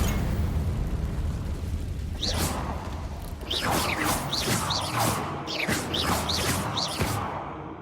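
Explosive spell blasts from the Hogwarts Legacy video game, a run of sharp bursts and whooshing impacts arriving in a fast cluster after a quieter start, loud and close with no talk over them.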